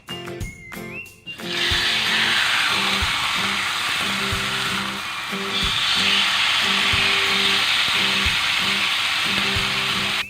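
Marinated chicken frying in hot oil in a pan, a dense steady sizzle that swells after a brief clatter at the start and runs loud and close throughout, with faint knocks underneath.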